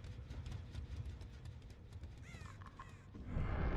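Crows caw a few times in a video game, the calls from the Artist's bird add-on sounding fairly faint against a steady background rumble that grows louder near the end.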